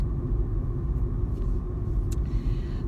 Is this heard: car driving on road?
yes